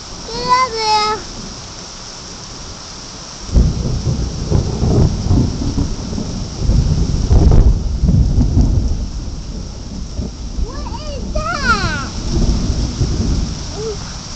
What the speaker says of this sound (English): That's some pretty big thunder there.